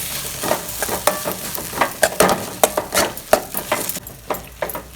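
Masala for idli kurma sautés in a pan, with a steady sizzle of frying under irregular scrapes and clinks of a spoon stirring, close and without talk.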